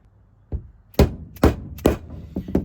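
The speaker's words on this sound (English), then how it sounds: "Don't have an angled pricking iron as you hit." A pricking iron is struck through leather with a mallet, giving five sharp, close thuds spaced roughly half a second apart over a quiet background, with no voices.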